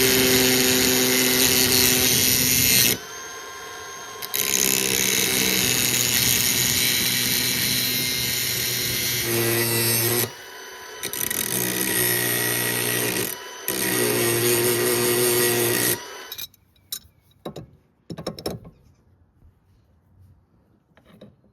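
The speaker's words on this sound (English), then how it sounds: "I'm just gonna take this one and grind it down to fit." An angle grinder grinds down a steel wrench to fit, a loud, close, high whine in long sustained bursts separated by brief pauses, ending in short scattered grinding touches before quiet.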